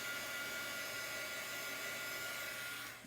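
A heat gun blows steadily over a gel print on paper, held about two inches away, giving a continuous loud hiss that stays even and then starts to tail off at the very end.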